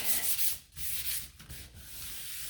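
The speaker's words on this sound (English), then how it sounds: "My ghost, just gonna wipe my sandpaper off, give it a sand." Sandpaper rubs over a wooden Halloween ghost sign in steady, close back-and-forth strokes, a raspy continuous scratching with brief pauses between passes and no voices.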